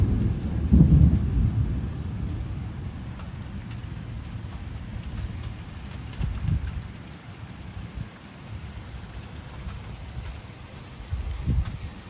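Violent July thunderstorm over Metz, with steady heavy rain hissing throughout and deep rolls of thunder, one strong rumble early on and further ones later, with no voices.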